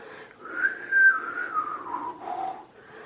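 A person whistles a short melody alone, a clear, bright tone that slides slowly downward over about three seconds, soft and close.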